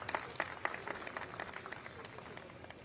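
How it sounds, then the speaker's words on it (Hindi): A crowd at a youth gathering for a Lok Sabha election event applauds to welcome a speaker, with fairly faint, distant clapping and a few sharper individual claps early on, then tapering to a softer wash. "जोरदार तालियों से स्वागत कर दीजिए सभी युवाओं का।"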